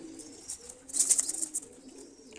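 Soft, low pigeon cooing murmurs steadily nearby, with a brief scuffle of higher sounds in the middle and no talking.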